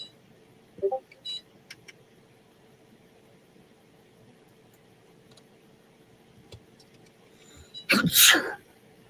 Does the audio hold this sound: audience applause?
no